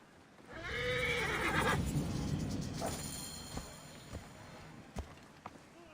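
A horse neighs in the Assassin's Creed Origins video game, a loud whinny lasting about a second, followed by a few sharp thuds and clip-clop hoofbeats over a steady outdoor ambience.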